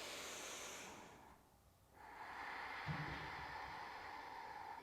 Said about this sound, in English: One more big breath here